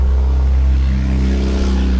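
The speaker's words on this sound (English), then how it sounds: "a piece of crap Hyundai driving by my house for every video with a blown out exhaust" A loud, low rumbling Hyundai with a blown-out exhaust drives by nearby, a deep throaty exhaust note holding for a couple of seconds.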